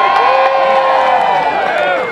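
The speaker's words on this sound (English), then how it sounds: "was awakened from his burrow to the cheers of his thousands of faithful followers" A large crowd of thousands cheers and whoops continuously at Punxsutawney Groundhog Day as Punxsutawney Phil is awakened from his burrow, a loud, dense wall of voices with shrill shouts rising over it.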